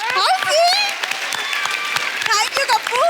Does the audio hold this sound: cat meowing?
no